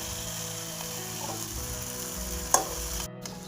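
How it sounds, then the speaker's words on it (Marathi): Fish pieces sautéing in a spice masala with chillies in a pan for a Maharashtrian black fish curry, a steady close sizzle with faint stirring and one sharp utensil knock. "तर आपण सर्व मच्छी अशा प्रकारे मसाल्यामध्ये परतून घेतली."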